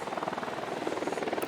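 An enemy Unidad helicopter in Ghost Recon Wildlands thrums with a fast, steady rotor chop, close and continuous, its rhythmic pulses running throughout.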